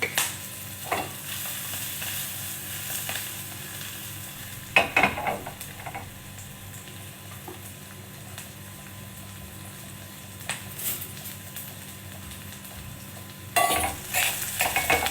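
Breakfast fries in a pan with a low, steady sizzle, broken by a few louder scrapes and clanks of stirring and utensils against the pan, and no talking.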